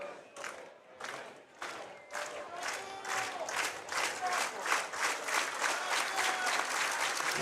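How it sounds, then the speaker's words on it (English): Crowd at a Japan versus Netherlands baseball game in Japan clapping in a rhythmic chant that swells louder, with rowdy voices mixed in and commentators talking over it. "As the crowd is getting loud"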